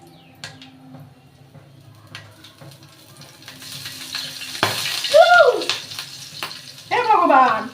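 Green chillies and black cumin hit hot oil in a home kitchen. A hissing, crackling sizzle swells partway through and stays loud to the end, with a voice talking over it.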